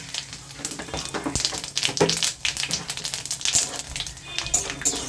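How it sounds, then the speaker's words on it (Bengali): A tempering of bay leaf, dried red chilli and cumin seeds frying in hot oil crackles and spits in dense, irregular pops close up, with no voices. "দেখো ফোড়নটা আমার ভাজা হচ্ছে"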